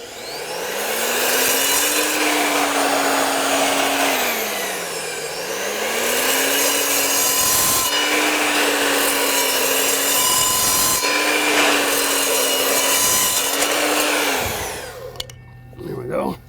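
A circular saw fitted with a 10-inch blade rated for both metal and wood cuts through hardwood deck boards in several long, loud passes, its motor whine rising and dipping between cuts before spinning down at the end.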